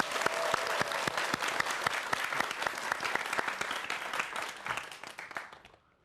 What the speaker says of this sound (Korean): 여러분 박수로 함께하겠습니다.